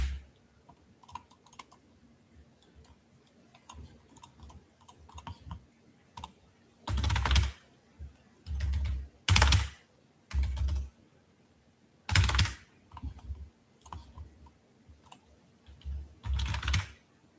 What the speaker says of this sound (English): the typing speed does help get edits out faster